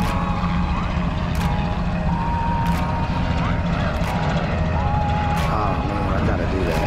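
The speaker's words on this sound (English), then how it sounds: "Oh, there's a helicopter. It looks like he just took off too." A helicopter lifting off near a roadside strip in Florida, a steady broadband engine and rotor roar with some wind, constant and fairly loud throughout while traffic hums beneath.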